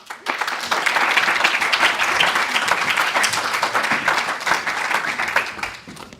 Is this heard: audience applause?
yes